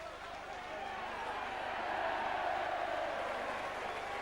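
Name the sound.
rugby league crowd applauding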